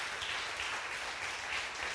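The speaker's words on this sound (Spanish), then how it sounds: "Denle un aplauso a nuestro Dios" A church congregation applauding, a steady wash of many hands clapping at moderate distance, fairly quiet and continuous for a couple of seconds.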